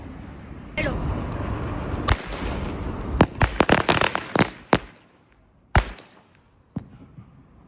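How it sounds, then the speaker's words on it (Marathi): Firecrackers go off on Lakshmi Puja night in a rapid series of sharp, loud bangs, then a few scattered pops with quiet gaps between them. "फटाके वगैरे फोडलेच नाहीत सो आता बघू माल लावतोय"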